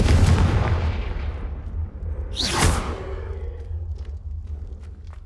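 A Confringo fire spell cast in Hogwarts Legacy on PlayStation 5: a sharp whooshing blast erupts midway, loud and close, over a rumbling low background of game ambience, then fades into a steady hum.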